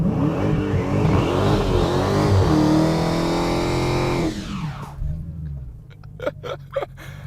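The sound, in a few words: Dodge Challenger SRT Hellcat revving, warming tires with line lock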